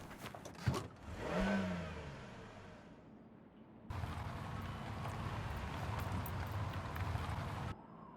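Game car in Surviving the Aftermath: a short rising engine rev with thumps and clatter, then a pause, then a steady dense roar of driving that cuts off abruptly near the end.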